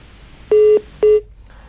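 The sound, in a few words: telephone line cut off, dial tones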